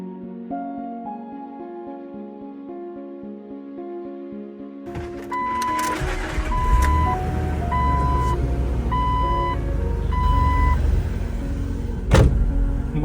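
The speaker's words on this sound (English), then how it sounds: "It's time to take it on its first drive." Rebuilt low-mile Jeep Wrangler TJ starting up for its first drive: a steady electronic chime pattern and faint clicking, then the engine catches and settles into a loud, close idle while the chimes keep repeating, with a brief knock near the end.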